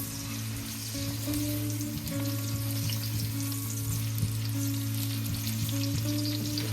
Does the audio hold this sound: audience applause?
no